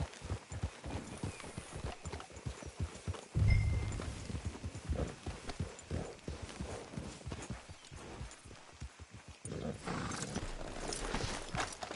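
Horses' hooves clip-clop at a steady walking pace in Red Dead Redemption 2, a continuous rhythmic clatter with a louder bump partway through and voices talking over parts of it.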